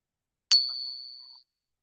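A silver trade dollar coin struck once, giving a clear, bright ring that sustains for about a second and fades cleanly into silence.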